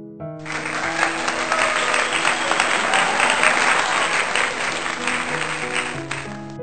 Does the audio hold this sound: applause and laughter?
yes